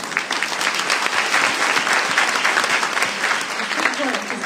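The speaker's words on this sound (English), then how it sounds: "let's give a biggest round of applause for Mr. Izzo and Mr. Grzegorzewski" Steady applause from an event audience honouring two speakers at a Europe Day 2020 gathering with Taiwan's president, many hands clapping densely and loudly throughout, with some voices mixed in.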